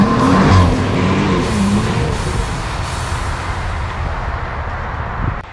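A first-generation Toyota Tacoma, converted from a prerunner to 4x4, spins donuts on a track: a loud engine roar blends with broad, rushing tire-skid noise that holds steady and fades slightly toward the end.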